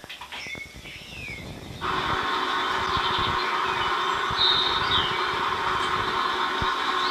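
A heavy truck engine idles with a steady, loud rumble after a quieter start, with faint squeaks and chirps above it.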